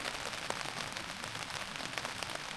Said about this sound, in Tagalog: At buti na lang hindi lumalakas yung ambon niya.